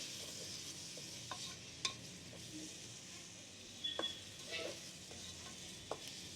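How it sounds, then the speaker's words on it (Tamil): Masala sautéing in oil for chicken tikka biryani, a quiet steady sizzle with a few light stirring scrapes and clinks of a spoon against the pan. "சேர்த்து நல்லா இதை வதக்கி எடுக்கணும்."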